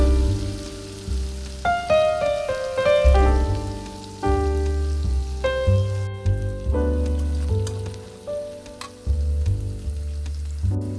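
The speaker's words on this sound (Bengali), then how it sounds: "রসুন বাটা দিয়ে আবার একটু ভালোভাবে কষিয়ে নিব যেন রসুনের কাঁচা গন্ধটা চলে যায়" Half a teaspoon of garlic paste sautéing in a pan while saag with dried fish is cooked, giving a steady close sizzle and frying crackle under a melodic background tune.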